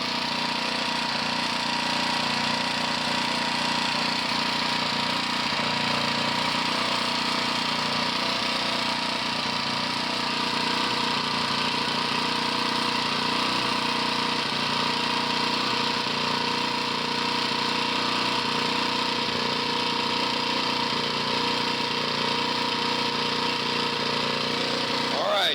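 A running engine treated with Liqui Moly MoS2 oil additive formula #2009 holds a loud, steady mechanical drone with a fast rattling knock, close and continuous throughout.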